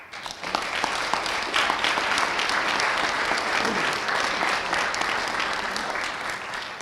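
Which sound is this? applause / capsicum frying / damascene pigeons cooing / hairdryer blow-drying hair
applause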